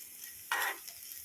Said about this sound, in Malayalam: ഇത് നന്നായിട്ടൊന്ന് ബ്രൗൺ കളറാവുന്നവരെ ഒന്ന് വഴറ്റണം.